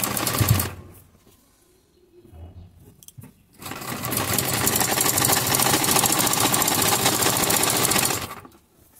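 A sewing machine stitches folded fabric edging onto a salwar hem, a brief burst at the start, then a long continuous run, close and loud, that stops near the end.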